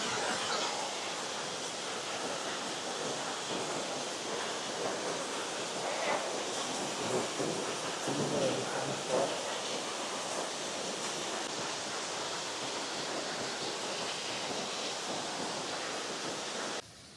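Elephant Falls waterfall in Shillong, Meghalaya, roars as a steady, dense wash of falling water, loud and constant throughout with no talk over it.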